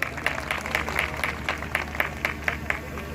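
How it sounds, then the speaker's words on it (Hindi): At the opening of a festival, a crowd at a public event gives rhythmic applause, with evenly spaced claps that are moderately loud and slightly distant over a low background hum. "जोरदार तालियों से स्वागत करें।"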